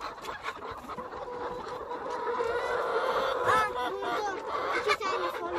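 Chickens in a coop cluck and chatter close by, with busy overlapping calls that rise and fall beneath people talking nearby.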